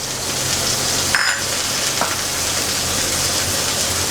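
Chopped onion, green chili and shrimp frying in a pan, a loud, steady close sizzle that runs throughout, with a couple of brief utensil clicks.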